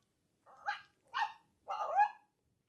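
Dog-E interactive robot dog toy giving three short electronic barks, evenly spaced and close, with no voices.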